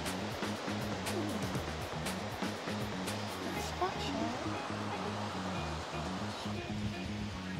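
Waves break on a beach with a soft, continuous wash of surf that stays faint and distant, and voices can be heard.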